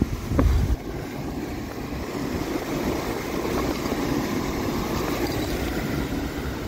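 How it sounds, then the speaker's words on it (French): Strong wind roars steadily against the microphone outdoors at night in Switzerland, a continuous loud rumbling gust with a brief buffeting thump at the start. "Et le vent que ça fait, c'est hallucinant."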